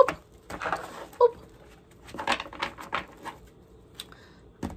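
Tarot cards are shuffled by hand in short bursts of crisp, rapid patter and flicking, with brief pauses between runs, close and moderately loud.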